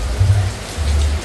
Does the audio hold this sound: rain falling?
yes